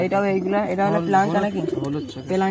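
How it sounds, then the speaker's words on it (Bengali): Pigeons coo in a loft, a close run of soft, wavering, throaty calls mixed with people talking nearby. "এক জোড়া কবুতর আমি দেখলাম"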